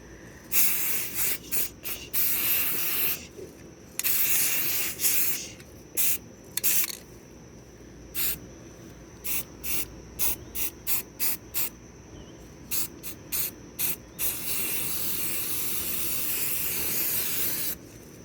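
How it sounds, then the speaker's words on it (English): Repeated hissing bursts of an aerosol spray can painting a toy car, some long, many short and rhythmic, ending in a sustained spray. "This is the way we spray paint the car"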